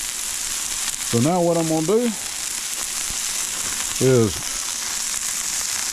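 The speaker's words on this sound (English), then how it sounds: "It is sizzling up." Smash burgers and onions frying on a hot griddle give a steady, close sizzle that runs throughout, while someone talks briefly twice over it.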